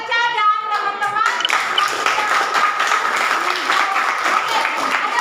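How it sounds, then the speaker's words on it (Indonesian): Students in a senior high school classroom clap for group 3, sustained loud applause from many hands filling the room right after a short spoken phrase. "kelompok 3 itu berikan tepuk tangan untuk Serca dan teman-teman"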